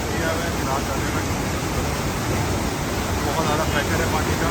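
A high-pressure mountain stream, Sunburn Nala along the Karakoram Highway in early June, rushes steadily and loudly as a dense, continuous roar of water close by, with no break across the span.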